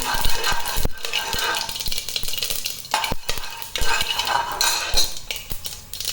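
Mustard seeds, cinnamon and cloves fry in a pan, giving off a close, hissing sizzle broken by scattered metallic clinks and scrapes as a utensil stirs them.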